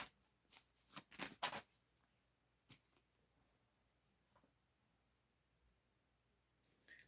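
Tarot cards are shuffled and drawn, with a flurry of soft, papery riffles close by early on. Then come a few isolated card snaps and long quiet stretches, faint overall.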